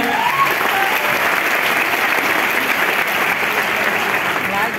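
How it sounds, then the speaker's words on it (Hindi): Audience at an event gives loud, dense applause that stays steady and continuous for several seconds, with crowd noise mixed in. "जोरदार तालियां हो जाए"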